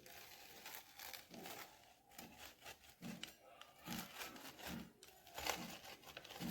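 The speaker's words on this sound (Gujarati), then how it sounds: "હવે આપણે એને પીઝા કટરથી કટ કરી લઈશું" A pizza cutter slices through a cooked mixed vegetable paratha in a series of soft, repeated scraping and rubbing strokes, quiet and close, with no voices.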